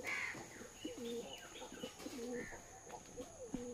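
Madras pigeons coo softly at a pigeon-flying competition, with low repeated throaty coos over quiet chirps and faint background noise.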